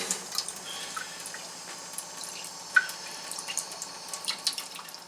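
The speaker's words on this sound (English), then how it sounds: "the water is slowly coming out of here, and here comes our drinking water" Water trickles and drips from an ITEHIL ITS 100G-HW water purification system into a container, a faint steady flow with small irregular drip plinks scattered across the quiet background.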